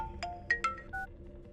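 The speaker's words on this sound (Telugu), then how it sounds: "ఇది ఫోన్ చేస్తున్నాయేంటి?" A mobile phone ringtone plays faintly, a few quick rising electronic tones over a low background hum, with no voices.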